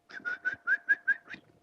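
A woman in a sci-fi movie scene whistles to call others to attention: seven short, clear, bright whistled notes in a quick, even rhythm, heard alone and close.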